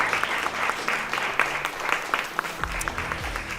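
Applause during a coworking livestream, a sustained wash of clapping with distinct sharp claps, ending with a low hum near the close.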